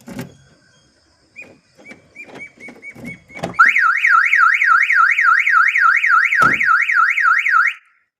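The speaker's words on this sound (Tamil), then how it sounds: "சாதா சாவி யார் போட்டாலும் அலாரம் அடிச்சிடும்." A few clicks and mechanical clunks as a car is unlocked with a plain key instead of the remote, then a loud car alarm bursts in with a rapid warbling siren that repeats steadily before cutting off.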